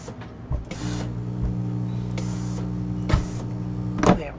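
A sewing machine stitches fabric pieces together in several short mechanical bursts with steady whirring hum between, close and fairly loud, no talking.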